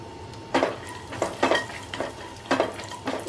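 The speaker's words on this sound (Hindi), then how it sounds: "कढ़ाई में घी बचा है उसमें ही हम बादाम और काजू को भी रोस्ट कर लेंगे।" Almonds and cashews stirred and roasting in ghee in a wok over low flame, with repeated bursts of scraping and sizzling every half second or so, close and moderately loud, no talk.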